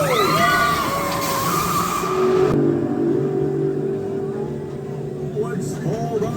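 The Stealth roller coaster at Thorpe Park launches with a rising, rushing roar close by, fading after a couple of seconds, with riders' voices heard over and after the surge.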